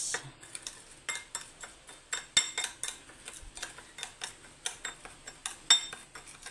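A spoon stirs an oil mixture in a bowl in a steady rhythm of quick, close scraping clicks against the sides, with no voices.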